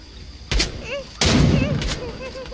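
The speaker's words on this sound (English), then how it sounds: "Oh god, I'm getting shot." Gunfire in a trios battle royale video game, two sharp heavy bursts of shots close by with ringing tails, separated by a brief lull.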